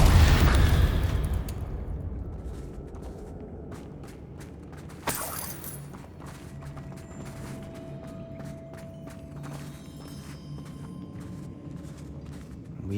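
A Confringo blasting spell in Hogwarts Legacy bursts loudly at the start as a heavy fiery boom, then dies into a low rumbling ambience with a single sharp pop around the middle.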